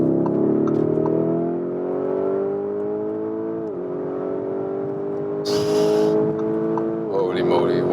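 A Lamborghini Urus Pearl Capsule Edition cruising at around 200 km/h through a long bend, its engine droning steadily with shifts in pitch, a brief burst of wind or tire noise, and someone talking over it.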